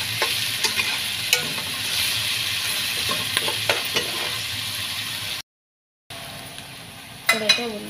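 Crushed ginger and garlic fry with onions in a pan for chicken curry, a steady close sizzle with stirring scrapes and small clinks, briefly cutting out before resuming.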